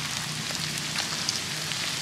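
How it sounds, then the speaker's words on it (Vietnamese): Ginger frying in oil in a pan, giving a steady, close, moderately loud sizzle with faint crackles and no talk over it. "Cái này gừng chiên."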